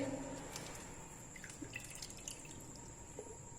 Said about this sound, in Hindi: अब हम इसको पानी में डिप करेंगे।